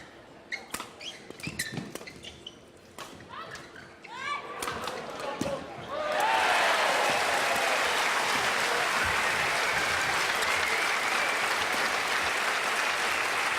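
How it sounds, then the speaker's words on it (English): Applause from the crowd at a neighbouring court swells up midway and holds steady in a badminton arena during a quarter-final, following scattered shuttle hits and squeaks, with a commentator's voice early on. "The applause for court one, but I think these two players can enjoy a bit of it as well"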